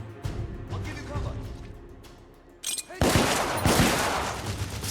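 Sustained covering gunfire in The Order: 1886, a burst of shots early on, then a dense, loud fusillade of rapid weapon fire from about the three-second mark, with voices faintly mixed in.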